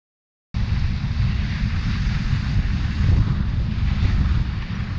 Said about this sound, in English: It's time for me to bring my drone down.